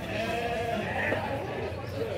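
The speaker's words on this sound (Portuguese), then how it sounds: "Muita ovelha grande aí, ó, boa." At a goat and sheep fair in Canafístula de Frei Damião, Alagoas, sheep bleat in a noisy outdoor crowd while someone speaks Portuguese close by.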